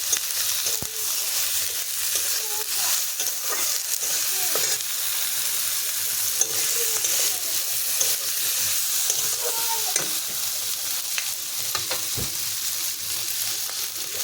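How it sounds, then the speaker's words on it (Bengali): Okra seasoned with salt is fried and stirred in a pan, a constant bubbling sizzle broken by repeated scraping strokes of the spatula, close and steady with no speech. "এখন আমি এটাকে ভালো করে ভেজে নেব নেড়ে চেড়ে।"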